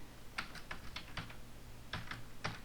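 Keys clacking on a computer keyboard in short quick clusters, close and fairly quiet, with brief pauses between bursts while entering text into a web form.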